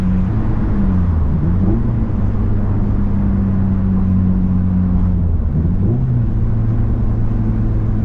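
A Honda Civic Si engine and exhaust pull hard under acceleration, a loud, steady close-up drone that rises in pitch, dips briefly near the end, then climbs again.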